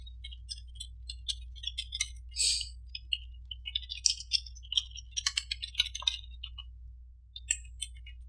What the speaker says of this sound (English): if we were to type our username and password